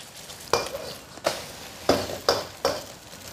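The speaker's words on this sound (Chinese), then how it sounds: "就用这个猪油煎一个鸡蛋" An egg frying in pork lard in a home kitchen pan, with a few sharp crackling bursts spaced through a steady soft sizzle, heard close and alone.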